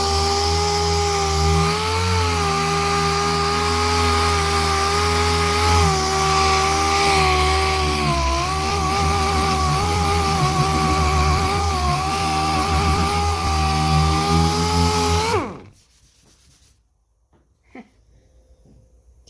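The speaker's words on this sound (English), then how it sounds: "Normally when you sand, this is what it looks like." A power sander grinds steadily and loudly against the paint of a new replacement hood on a Dodge Charger, then cuts off abruptly near the end, leaving near silence.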